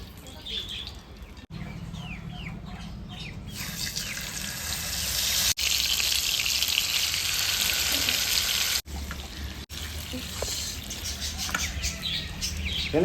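Chicken legs sizzle steadily in hot oil on a small miniature-cooking stove, a dense crackling hiss that holds close and loud throughout with a few brief gaps.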